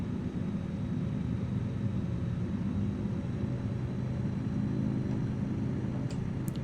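A Zlin Savage Cub light plane engine climbing at power in Microsoft Flight Simulator, a steady loud droning rumble with no break, alone without talk.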